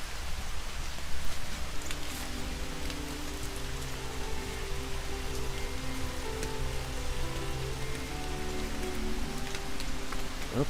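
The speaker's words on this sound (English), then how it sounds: "It started to rain pretty heavy as soon as we got here." Heavy rain falls steadily on a nature preserve, a dense, even hiss of drops on the ground and surfaces that lasts throughout, with no voices.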